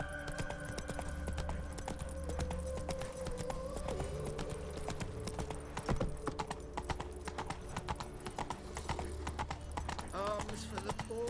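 Horse hooves clip-clop and gallop steadily in The Witcher 3 on PS5, a continuous rhythmic pounding under game ambience with a snort or whinny near the end.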